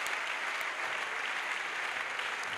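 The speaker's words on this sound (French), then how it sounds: "Let's clap for Jesus." An audience at an evangelistic healing crusade claps for Jesus, a dense, steady applause from a large crowd that keeps going throughout, fairly loud and without voices.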